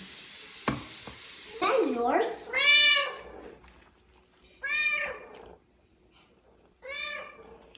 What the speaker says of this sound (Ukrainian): Вгадайте, хто хоче їсти млинці. Так, кішка.